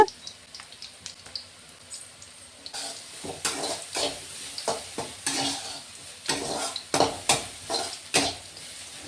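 Steamed bitter gourd pieces fry in a pan while being stirred and turned, a soft sizzle under repeated scraping and clinking of a utensil against the pan in irregular bursts.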